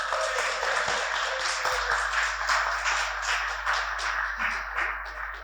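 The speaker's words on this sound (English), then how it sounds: "Clap for yourselves." An audience at a leadership session claps in a lively, uneven burst with some sharp individual claps standing out, continuing throughout and tapering slightly at the end.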